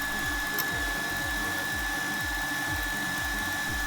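Spicy mayonnaise whisked steadily in a bowl, making a rhythmic mechanical whirring with regular pulsing strokes about twice a second, close and constant with no talk.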